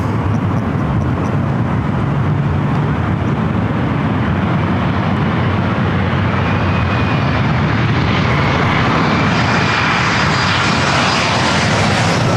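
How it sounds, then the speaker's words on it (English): A heavy Japan Airlines Boeing 787 Dreamliner jet roars loudly and continuously near the runways at LAX, its broad engine rumble steady throughout with a rising whine building toward the end as it passes close by. "Have another heavy Japan Airlines Dreamliner."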